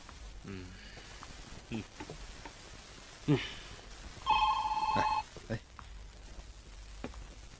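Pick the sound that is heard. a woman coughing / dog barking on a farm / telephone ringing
telephone ringing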